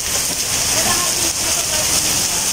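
Heavy typhoon rain pours down in Tagaytay in a loud, constant hiss, with faint indistinct voices under the downpour.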